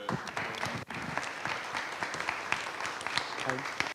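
Brief, fairly faint clapping from a tech conference audience after a DevOps talk, with separate claps audible and some murmuring voices underneath.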